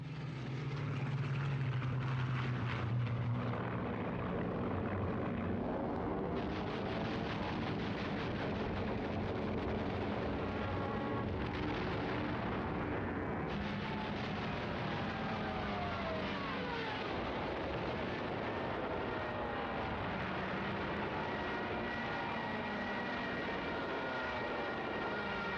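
WWII Soviet and German warplanes roar overhead in a dense, continuous engine drone with rising and falling pitch sweeps as aircraft pass, loud and sustained, with rumbling blasts mixed in.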